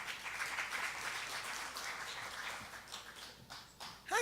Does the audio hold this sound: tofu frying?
no